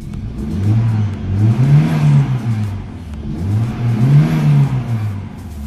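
Car engine with a factory turbo on a cheap wagon warming up, revved twice in rising and falling swells about two seconds apart, close and fairly loud, alone.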